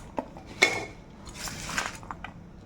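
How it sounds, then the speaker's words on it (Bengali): Metal cutlery and pot clatter as chopped taro leaves go into a pressure cooker, a few sharp clinks and scraping knocks, close and moderately loud with no talk. "তো এবার পাতাগুলি কুকারের মধ্যে দিয়ে দিচ্ছি।"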